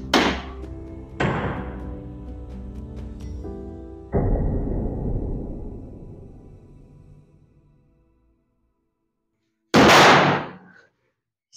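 A balloon bursts in a homemade electric experiment, a single loud sharp pop near the end that cuts off abruptly, following several duller clunks and a fading ring from the rig.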